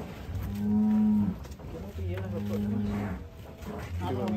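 Large cattle of around one ton moo loudly and repeatedly while being loaded onto a truck, with long drawn-out calls close by and people talking in between.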